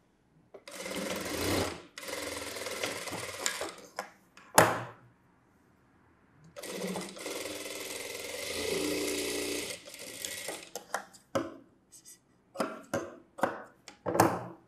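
A tailor's sewing machine stitches a double seam on a blouse shoulder. Two long, loud whirring runs are split by a pause, then short stop-start bursts of stitching follow, all close by with no voices.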